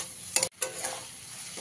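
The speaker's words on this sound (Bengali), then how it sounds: "জল ছাড়াই সবজিগুলোকে খুব ভালো করে ভেজে নিতে হবে" Spiced vegetables are stir-fried in a pan without water, with a soft continuous sizzle and a couple of quick scraping strokes from a spatula.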